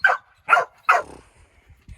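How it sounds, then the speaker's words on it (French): Two dogs, one belonging to the speaker's brother, let out three loud close barks in quick succession indoors during a house renovation, followed by softer scattered yips and whimpers. "Ça parle hein les chiens, vous en faites un boucan."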